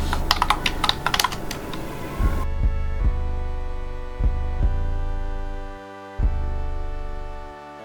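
Rapid typing on a computer keyboard, a quick burst of close clicky keystrokes lasting about two seconds, then a steady low electronic hum with occasional soft thumps, no talk.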